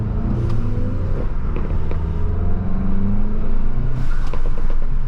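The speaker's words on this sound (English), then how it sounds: "And listen to the blow off in this car. It sounds insane." Manual MK7 Volkswagen GTI accelerating with a steady engine rumble, with short airy hissing bursts from the turbo blow-off valve near the start and again around four seconds in, loud and close throughout.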